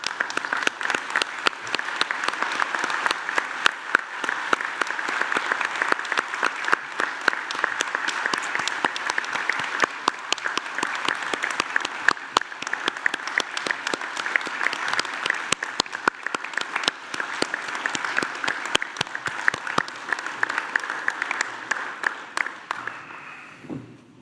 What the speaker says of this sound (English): join me in applauding their wonderful achievements